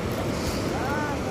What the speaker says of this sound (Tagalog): Medyo malakas kasi ang alon dito.